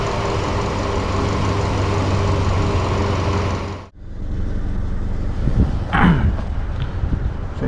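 A car engine idles steadily after a long highway drive, a low continuous hum that cuts off partway through, followed by quieter rustling and a few handling noises.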